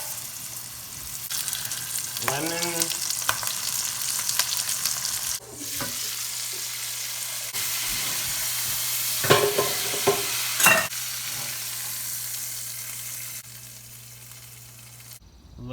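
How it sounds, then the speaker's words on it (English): Catfish coated in seasoning fries in butter and hot oil, crackling and sizzling with a steady hiss throughout, broken by stirring scrapes and clatters, while a voice briefly speaks over it. "Now I'm gonna add butter to hot oil here, and it's gonna sizzle, and now in goes the fish."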